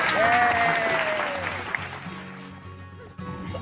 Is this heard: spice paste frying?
no